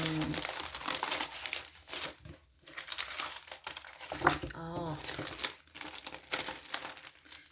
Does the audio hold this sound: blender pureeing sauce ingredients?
no